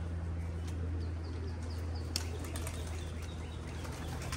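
Racing pigeons startled inside a loft, a burst of flapping wings with faint chirps over a constant low hum, fairly quiet and continuous.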